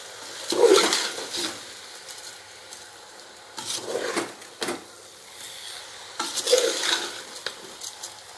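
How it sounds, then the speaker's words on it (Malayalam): Basmati rice being stirred into chicken biryani in a pot for Kerala-style Thalappakkatti biryani, heard as three separate bursts of scraping and shuffling, each a second or two long, with short quiet gaps between them. "നല്ലതുപോലെ ഇളക്കി കൊടുക്കുക."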